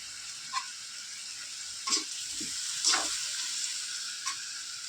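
Food sautés in a pan with a steady, even sizzle throughout, broken by a few soft scrapes and stirs of a utensil, close and without talk.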